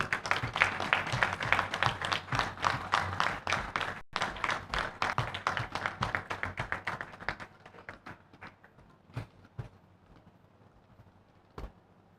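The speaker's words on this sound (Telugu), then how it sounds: "చప్పట్లు కొడదాం అందరం" A crowd applauding, dense rhythmic clapping that thins out to a few scattered claps and fades away toward the end.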